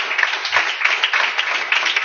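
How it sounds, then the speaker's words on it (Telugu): A church congregation claps together in a dense, steady burst of applause, many hands close by and fairly loud, with no clear speech over it. "కొట్టు చప్పట్లు"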